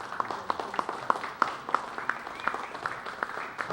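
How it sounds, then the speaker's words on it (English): Sparse audience applause at a Granada Forum lecture, a small crowd giving scattered claps at a steady moderate level for several seconds, heard alone with no talk. "let's thank Ted Gunderson one more time with a round of applause"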